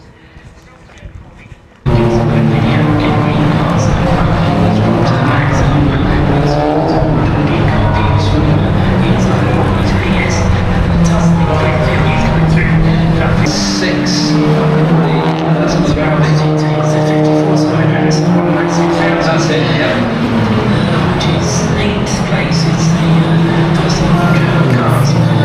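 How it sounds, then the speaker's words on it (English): Race cars lap Silverstone during a BRSCC summer endurance race, a loud continuous engine roar with shifting tones and passing surges after a quiet opening moment, with speech mixed in. "So the endurance race is out there now currently."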